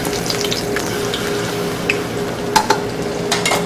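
Swordfish fillet frying in a pan, a steady close sizzle running throughout with a few small pops and clinks, no talking.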